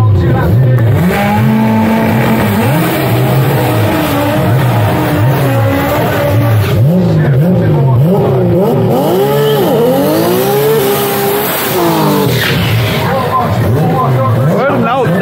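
A Chevrolet Cobalt drag car with a billet 2JZ engine makes a pass at a drag strip, its engine note rising and falling loudly and continuously throughout.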